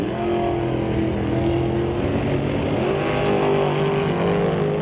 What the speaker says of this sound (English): So Brad Powell racing against Cody Lewinsky. The T&D Dragster versus a 67 Nova.